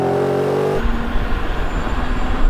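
A Tesla Cybertruck and a Ford F-150 Raptor R launch in a rolling drag race from 20 mph, a steady engine drone giving way abruptly to loud rushing wind and road roar that holds to the end.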